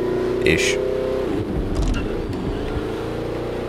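Car engine in the Watch Dogs Legion video game, revving and shifting as it drives along a straight road, with someone talking briefly over it.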